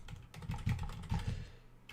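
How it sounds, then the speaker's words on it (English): Fingertip typing on a computer keyboard, a run of quick uneven clicks and taps, close and fairly soft, trailing off toward the end with no talk over it. "Sorry for my typing today."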